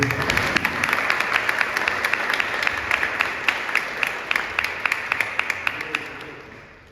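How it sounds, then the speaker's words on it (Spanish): A hall audience gives steady, dense applause with crisp individual claps for a doctor receiving an award at a judicial conference; the clapping holds for several seconds, then fades out. "así que un fuerte aplauso para Matías"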